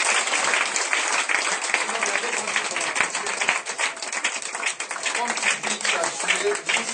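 A church congregation breaks into steady applause, dense clapping from many hands filling the room while voices call out over it.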